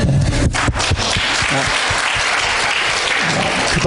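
Church congregation during a sermon bursts into loud, full applause, a thick continuous roar of many hands clapping that stays strong for several seconds.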